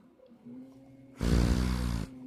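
Breath blown hard through a 3D-printed filter mask makes a short buzzing, flapping raspberry like a fart, close and loud for under a second after a faint hum.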